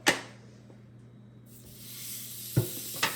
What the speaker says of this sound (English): I'm going to go ahead and add my burgers to the grill